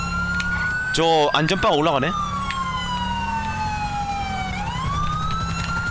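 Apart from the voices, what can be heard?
police car siren in video game GTA V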